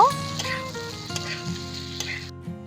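Fried paneer stirred into spiced potatoes and peas in a pan makes a brief, close sizzle with stirring scrapes, and a steady tonal hum runs beneath it.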